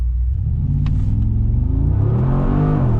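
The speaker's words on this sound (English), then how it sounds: "We're just going to do a little brake launch and see what we can do." Mercedes-AMG G63 launching hard from a brake-held standstill: a loud, close engine rumble climbs in pitch and revs as the SUV accelerates, with a deep sustained roar throughout.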